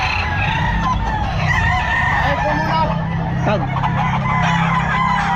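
Sweater gamefowl rooster at a pet market crowing repeatedly alongside clucking from other fowl, amid steady market noise while someone talks nearby.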